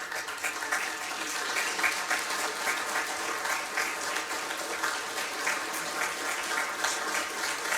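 A crowd applauds a veteran at a Veterans Day event in Bella Vista, Arkansas: dense, even clapping from many hands that holds steady throughout, heard from a little distance in a large hall, with no talk over it.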